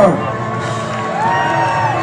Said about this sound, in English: Let's big up and give Team England a big cheer.